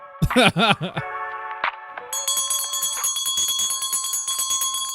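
A voice is heard briefly, then clear, bright bell tones ring and sustain, layered with a higher shimmering ring that continues to the end.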